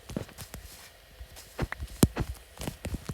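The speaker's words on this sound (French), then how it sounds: "J'entends des fucking bruits de pas." Footsteps in Minecraft, soft irregular thuds and crunches at close range, stepping unevenly without any talk.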